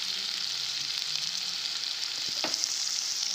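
Onions with cashews fry for egg biryani, giving off a constant, fairly loud hissing sizzle from the pan. A single clack of a utensil comes through partway in. No one speaks.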